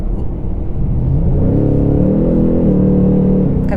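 A Ford Mustang Mach 1 V8 in sport mode revs up steadily behind the wheel, its rumble climbing into a loud, sustained growl with rising engine tones.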